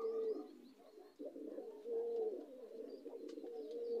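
A pigeon coos in low, throaty rolling phrases close by, repeating several times over a quiet background, with no talking.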